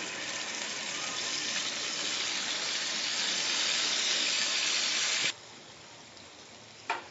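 Rohu fish pieces frying in hot oil, a loud, steady, dense sizzle that holds for about five seconds, then drops to a quieter crackle with a brief burst near the end.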